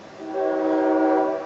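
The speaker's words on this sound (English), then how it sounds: "sorry for the train" A passing train sounds a long, steady horn blast in harmonic tones that swells in and holds, loud and somewhat distant, with no talk over it.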